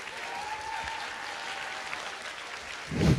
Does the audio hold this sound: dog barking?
no